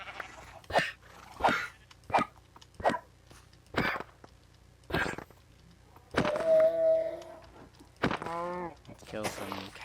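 Sheep and other farm animals in Minecraft's ATM10 modpack bleat in short, repeated bursts, with a run of longer, louder baas toward the end and nothing else in between.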